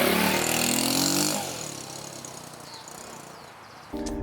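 Lifan LF125 motorcycle with a small 125 cc engine, loud revving for about a second before dropping back to a lower idle-like hum, then a brief renewed burst at the end; no talk.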